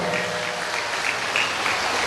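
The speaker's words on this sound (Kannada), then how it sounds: "ಚಪ್ಪಾಳೆ, ಜೋರಾದ ಚಪ್ಪಾಳೆ." Loud, sustained applause from an audience at a cultural programme held by a women's fish-vendors' association in Udupi taluk, steady dense clapping filling the full two seconds with no voice over it.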